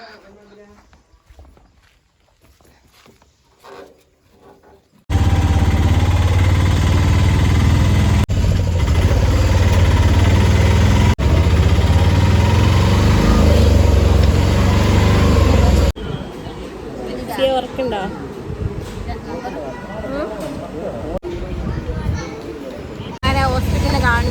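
An auto rickshaw engine runs with a loud, steady low drone for about ten seconds, then continues rougher and less even while people talk nearby.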